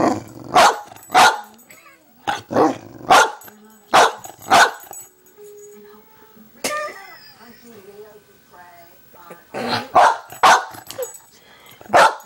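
A dog barks close by in sharp clusters of two or three, pausing between volleys before barking again.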